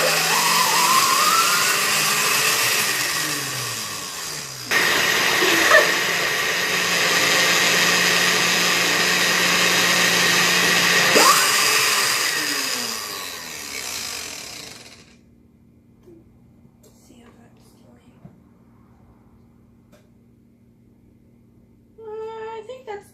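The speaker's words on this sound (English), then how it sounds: "we have the sauce from the saucepan straight into the blender, and we're going to go ahead and blend it on high." A blender whirs on high through thick cherry barbecue sauce poured straight from a saucepan, a loud steady roar with a pitch shift partway through, running about fifteen seconds before cutting off into near silence.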